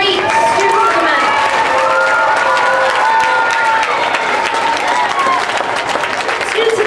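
A school assembly crowd applauds the students of the month, steady clapping mixed with cheers and children's shouts, with voices and chatter running through the room over the noise.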